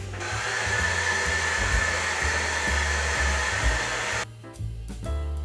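A handheld hair dryer blows loudly and close with a continuous whooshing roar, wavering slightly as it moves, then drops briefly before resuming near the end.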